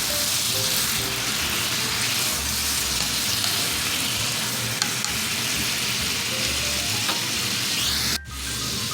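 Lemon juice being stirred into a creamy pasta sauce in a hot pan, a steady loud sizzle with scraping stir sounds throughout, briefly dropping out near the end.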